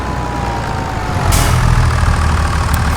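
A big farm tractor on a dairy farm rumbles with a steady, deep engine drone nearby, swelling slightly louder partway through with no talking over it.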